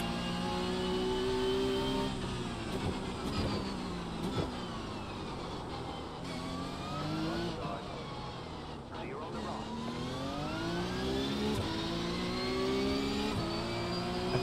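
A Viper car engine in a racing video game revs up and down repeatedly, its pitch climbing and falling through gear changes, while a person talks over it the whole time.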